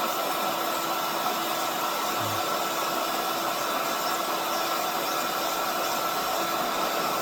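Heat gun blowing hot air onto a bearing for a Stihl MS 251C chainsaw, a steady loud whooshing hiss with a thin whine that runs unbroken from start to finish, no voices.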